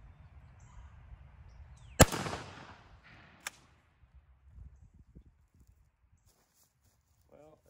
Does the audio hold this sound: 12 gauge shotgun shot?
yes